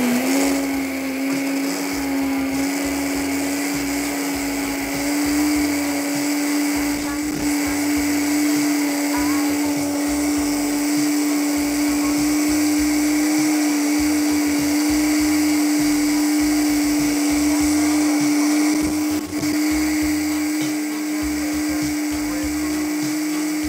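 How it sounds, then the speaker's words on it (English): A powerful Vitamix blender runs nonstop on nut milk, a loud, steady high-pitched motor whine with a churning, pulsing liquid texture underneath, with no talk. "This is a very powerful one, a Vitamix, so we don't have to blend it for a long time."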